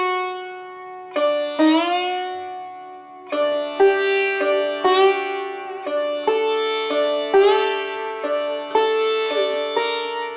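A sitar plays a meend, with the string pulled so the note glides up from Pa to komal Dha. Plucked notes ring with bright, buzzing overtones, and the phrases are repeated alone with no talking.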